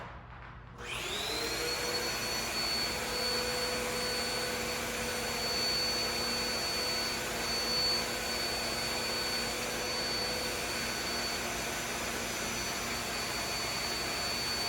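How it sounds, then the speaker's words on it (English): A vacuum cleaner is switched on at a distance, its motor whine rising within the first second and then running in a steady, loud drone with a high tonal whistle for the rest of the time. "I'm going to take the vacuum at a much further distance away, power it on"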